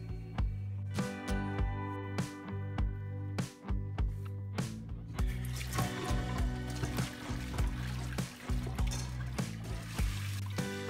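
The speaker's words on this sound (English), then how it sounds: "The last thing I'll be doing tonight is for me to wash up the dishes." Dishes being washed in a kitchen sink at home, with repeated clinks and clatters of crockery and running, splashing water, continuous and close throughout.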